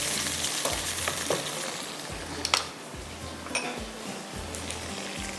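Chicken and garlic fry in a pan with a dense, steady sizzle, while a utensil scrapes and clinks against the metal now and then.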